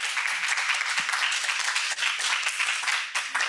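A lecture audience applauds Professor Shin Chang-min at a Korean unification mission conference, dense continuous clapping from many people, loud and sustained with little variation.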